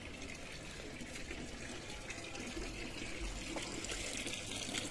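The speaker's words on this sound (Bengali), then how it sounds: "তাহলে জলটা দেখি কতটা ভরলো" Water runs steadily from a household tap into a container, a continuous rushing gush that stays even and fairly loud throughout with no voices.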